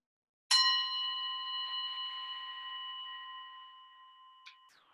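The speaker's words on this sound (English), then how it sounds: "At the sound of the bell, we will begin." A single meditation bell is struck once after silence, giving a bright, clean ring with a long, slowly fading sustain, then a faint tap near the end.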